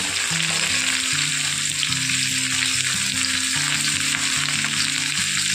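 Cauliflower and beans with sweet potato sizzle steadily in a hot pan of oil for a mixed vegetable dish, a continuous close crackle with faint stirring beneath and no talking.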